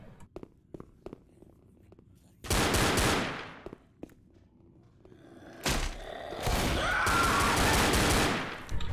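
Automatic gunfire in Left 4 Dead, in the Haunted Mansion night campaign. Loud bursts of rapid shots come in three spells, between quieter stretches of scattered thuds and footsteps.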